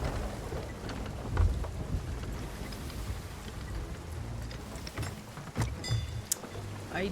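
Steady rain and rumbling thunder from a storm in a video game, a continuous wash of rainfall with a few heavier thunder cracks partway through, with no talking.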